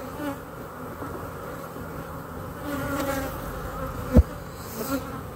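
Honeybees of a hive colony opened for inspection hum in a steady, moderately loud drone that stays calm and even, with a few faint knocks and one sharp tap near the end; nobody speaks.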